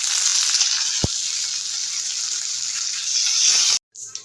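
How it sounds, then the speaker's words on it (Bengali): Dried red chillies, mustard seeds and curry leaves sizzling in a spoonful of hot white oil, a loud, steady hiss and crackle with one sharp pop partway through, cutting out suddenly near the end. "এক চামচ মতো সাদা তেল দিলাম দেবো তিন চারটে শুকনো লঙ্কা দিয়ে দেবো এক চামচ মতো সর্ষে ফোড়ন আর দেবো কিছুটা কারি পাতা"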